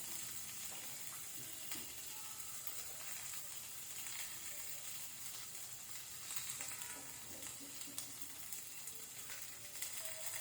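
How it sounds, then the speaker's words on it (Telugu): Sliced onions and drumsticks sizzle and fry steadily in hot oil in a home kitchen while sambar is being cooked, with the crackle constant and close throughout and occasional stirring clinks. "ఉల్లిపాయలు కొంచెం కలర్ చేంజ్ అయ్యే వరకు కొంచెం ఫ్రై చేయాలండి నూనెలో"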